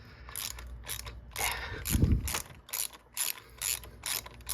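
A ratchet with a 5/8 spark plug socket clicks in short repeated bursts while loosening spark plugs on a 2016 Kia Soul SX, close and fairly quiet with no voices.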